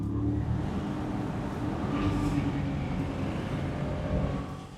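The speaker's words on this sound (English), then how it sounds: "This is one of the best sounding V8s. A little quieter over here, but you still have that delicious roar." A Mercedes-Maybach SL 680 V8 engine rumbles from a distance as the car drives, a fairly quiet, steady low roar that swells slightly midway, with no talk over it.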